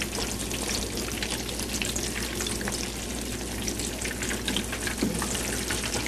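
Eggplant slices fry in a pan for an eggplant parmesan, with a continuous close sizzle and crackle of oil and scattered pops, and no voices.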